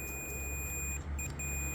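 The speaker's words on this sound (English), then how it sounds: "There is a beep." A tester beeping while checking car fuses in a wrecked Ford Fiesta: a thin, faint high tone sounding repeatedly in short pulses over low background hum.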